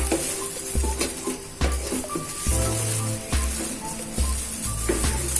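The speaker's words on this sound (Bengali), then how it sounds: "আর একটু সময় ধরে এটাকে নাড়াচাড়া করতে হবে।" Powdered milk dough for kalojam sweets is stirred in a pan, with rhythmic scraping and thudding strokes repeating about once a second over a soft sizzle, close up and without talk.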